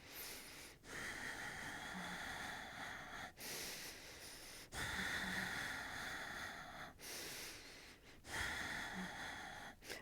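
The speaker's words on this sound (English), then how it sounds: "So inhale for a cycle of breathing. Exhale, that's 1 rep." Steady breathing cycles during the Pilates hundred exercise on a Wunda Chair: long forceful breaths, each lasting a few seconds and separated by brief pauses, loud and close with no talking.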